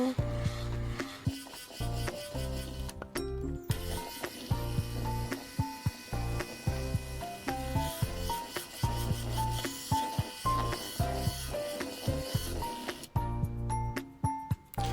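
An electric mixer churns Christmas shortbread biscuit dough, whirring and grinding in a steady rhythmic pattern with brief pauses and mechanical rattling.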